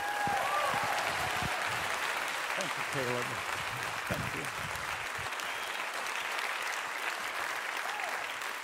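Steady, sustained applause from a church congregation welcoming a pastor to the pulpit. Brief spoken thanks from the stage come over the continuous clapping.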